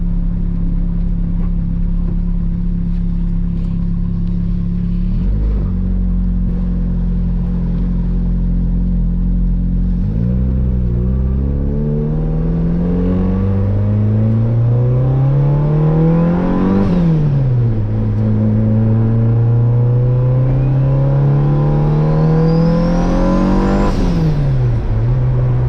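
A car engine warming up with the check engine light on, a steady close rumble that rises and falls in pitch as it revs up and settles, with no talk over it.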